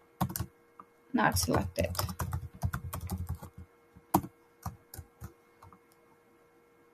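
Computer keyboard typing, close and crisp, with a burst of rapid keystrokes followed by scattered single taps, while a person speaks briefly over the start.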